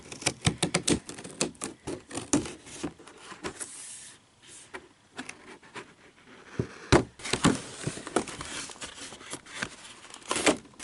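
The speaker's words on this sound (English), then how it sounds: "Using these dusty, crusty, musty purple scissors from the family junk drawer." Purple scissors snip through stiff toy packaging in a run of sharp, close clicks and crunches, pausing briefly before a second burst of cutting.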